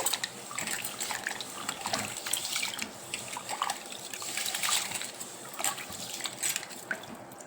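Ragi grain being swished and rinsed in water, irregular splashes and trickling in a bowl, close and moderately quiet, no talking.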